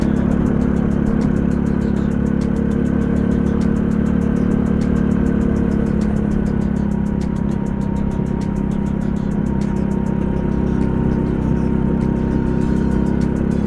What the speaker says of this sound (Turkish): Şimdi bakalım motor bizi nereye götürecek.